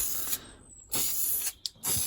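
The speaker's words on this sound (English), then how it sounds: "time to spray the front now" Short hissing bursts of an aerosol can spraying matte black paint onto the front of an MG ZR car, three quick sprays separated by brief pauses, close and moderately loud.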